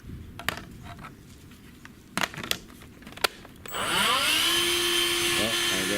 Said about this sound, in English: so you can hear that's what the Hoover sounds like while it's on.